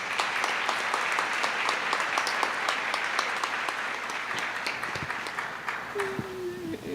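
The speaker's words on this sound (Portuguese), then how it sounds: "Uma salva de palmas para as irmãs." Congregation applauding during a Mass for the Solemnity of the Assumption, steady dense clapping from a crowd that carries on for several seconds, then thins near the end as a low tone sounds underneath.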